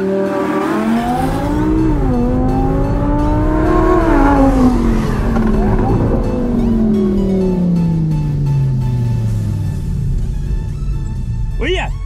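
Audi R8 and Porsche launching side by side from a street race start, loud engines revving up through rising and falling gear sweeps with tire noise, while people shout and talk over the roar.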